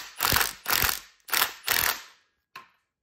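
A ratchet wrench turns 10 mm bolts threaded into bosses to pull a water pump from a BMW M52 engine (E36/E46), four loud bursts of rapid clicking close up, then a short final click.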